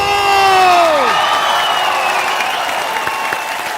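Audience applause and cheering greet Salman Khan's entrance on a Kapil Sharma comedy show, a loud sustained wash of clapping and shouts with a whistle-like tone sliding down early on, then crowd noise that stays steady and slowly fades.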